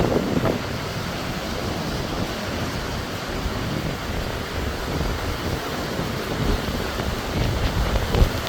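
Gusty wind roars against the microphone while high waves wash and churn near a dock in Bermuda during a storm, a constant rough rush with no voices.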